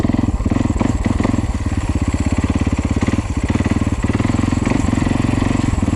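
A dirt bike engine, a 2015 Husqvarna FC350 or 2010 Husaberg FX450 riding in tight woods, thrums with a rapid, steady pulsing beat, close and loud, its pitch shifting slightly as it rides along.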